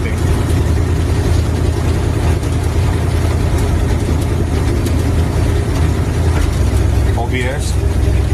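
A hot rod's engine runs at an old rural farm as a loud, steady, low rumbling idle that carries on throughout, with a voice or two partly buried beneath it.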